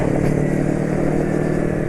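A motorcycle engine runs after an oil change to Mesran 20W50 oil, giving a steady, close, loud mid-pitched hum and rattle with no talking.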